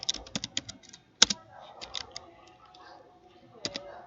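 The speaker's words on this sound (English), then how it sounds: "So we're just going to type enable password" Computer keyboard typing in quick bursts of crisp keystrokes while entering an enable password on networking equipment, close and clear with short pauses between runs of keys.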